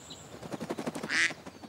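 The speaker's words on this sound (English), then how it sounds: "A duck, separated from her own kind, and trying to find some company." A lone duck, separated from its own kind, gives a quick series of about ten rhythmic quacks followed by a louder, harsher call, close and clear with no talk.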